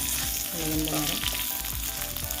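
Garlic, chili and spices frying in a pan for a Kerala jackfruit (idiyan chakka) masala curry, with a steady close sizzle and brief tonal scraping strokes over it.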